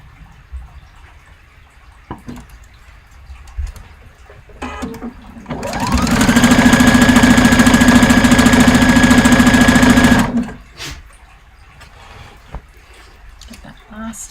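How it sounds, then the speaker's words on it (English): A sewing machine stitches an Orla dress from a French Navy pattern, running in one steady, loud whir for about five seconds, framed by quieter handling clicks and rustles. "now a little bit of sewing on the other side"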